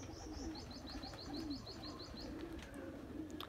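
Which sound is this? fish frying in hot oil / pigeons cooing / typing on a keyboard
pigeons cooing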